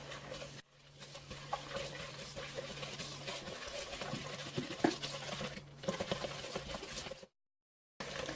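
Melted, slightly cooled butter is stirred into sugar in a mixing bowl for gluten-free sweet corn bread, giving a steady close scratchy, pattering mixing sound that runs continuously before a short break near the end.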